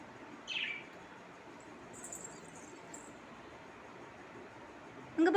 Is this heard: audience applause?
no